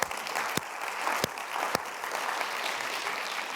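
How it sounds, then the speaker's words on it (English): A lecture audience applauds, with steady clapping that carries through the whole stretch at moderate volume and a few sharper claps standing out early on. "Round of applause for Beatty."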